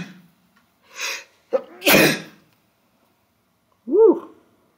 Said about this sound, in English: Oh boy, I have to sneeze.